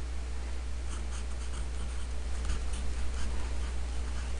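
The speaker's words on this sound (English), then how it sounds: "you're going to need, first of all, a name tag. Write your name" Pen writing a name on a name tag before making a clay coil pot: a soft, steady scratching of the tip across the tag, close and quiet over a low background hum.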